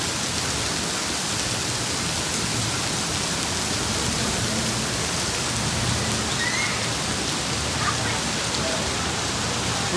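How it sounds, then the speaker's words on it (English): Heavy monsoon rain pours steadily in Mazamitla, Mexico, a dense continuous hiss of downpour on rooftops and streets with runoff streaming off the roof, loud and unbroken throughout. "Look at it pouring off of this thing on the roof. Now that's Mexican rain."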